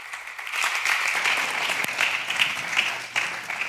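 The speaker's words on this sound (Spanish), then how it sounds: "Un aplauso para ellos y vamos a hablar de bienestar." A conference audience at an executive summit applauds panel guests, with sustained, full clapping from many people and a few sharper claps standing out, continuing for nearly four seconds.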